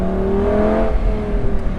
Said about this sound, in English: this car sounds, oh my God, it sounds amazing